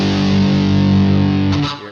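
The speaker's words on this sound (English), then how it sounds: "The power chord and the spacing, you get that cool metal sound if you get the distortion." A distorted electric guitar power chord in drop D tuning rings out loud and sustained with a thick metal tone, then cuts off near the end.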